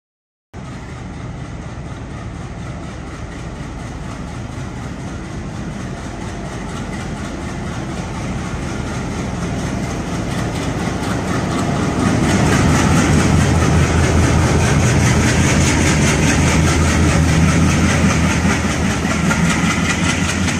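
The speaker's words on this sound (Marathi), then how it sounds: "जनशताब्दी एक्सप्रेसचे आगमन होत असते" The Jalna Jan Shatabdi Express pulls into Nashik Road railway station, its deep rumble and rail clatter swelling from a moderate drone to a loud, close roar as the train draws nearer.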